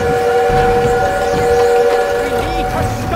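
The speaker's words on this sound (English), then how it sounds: "We need to stop that train!" Rumbling rolling of a train in the Call of Duty WW2 game, heard as a loud, steady mechanical drone with sustained tonal whine over continuous low rumble throughout.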